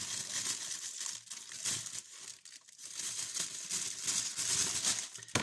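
Plastic wrapping of a cross-stitch kit package being opened, soft continuous crinkling and rustling with uneven swells, close but quiet, no talking.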